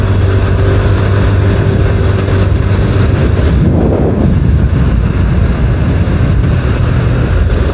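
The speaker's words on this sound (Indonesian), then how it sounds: "jalan-jalan sore numpak Vario" Honda Vario 110 scooter on an afternoon ride, its engine a steady low drone mixed with rumbling wind buffeting the microphone throughout, with no talk.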